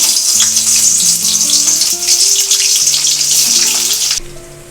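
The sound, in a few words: cauliflower pieces frying in oil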